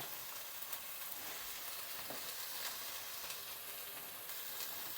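Pad Thai noodles sizzle and fry in a pan while being stirred, a steady close hiss with faint scraping of the utensil throughout, no voices.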